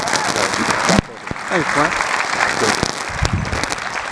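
Conference keynote audience applauding, a burst of clapping from a crowd with someone briefly speaking over it partway through.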